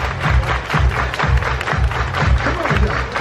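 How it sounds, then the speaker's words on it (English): A crowd at a Disney Wish cruise ship sail away party claps in a steady rhythmic beat, loud and close, with lively crowd noise mixed in. "Everybody clap your hands,"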